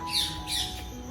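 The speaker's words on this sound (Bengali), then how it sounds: "পাখিগুলো কি ডাকছে তো" Birds give two short squawking calls in quick succession, moderately near, over light drizzle and a faint steady hum.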